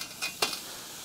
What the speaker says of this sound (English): You're getting a high heat sear right on top of this beautiful steak.